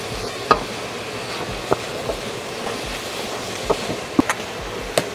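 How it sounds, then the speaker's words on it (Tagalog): Meat being sautéed and stirred in a pan, a steady sizzle with occasional sharp clinks of a utensil against the metal, close and continuous with no talking. "Haluin lang natin maigi guys."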